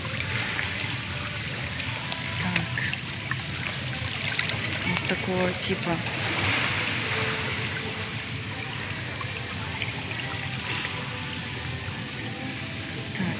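Hydromassage jets in a thermal spa pool push a steady, broadband rush of water that runs continuously at moderate loudness, with a person talking briefly over it.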